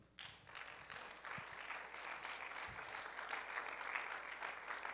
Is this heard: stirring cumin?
no